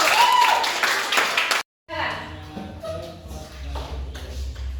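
A group claps hands together at a school teacher coaching session in Indonesia, the claps mixed with shuffling and voices before a short silent break, then softer scattered taps under children's chatter.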